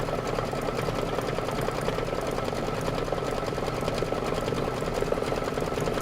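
A Kimberbell embroidery sewing machine stitching a decorative stitch on fabric, a steady fast mechanical whir and rapid needle ticking that runs evenly throughout, close and alone.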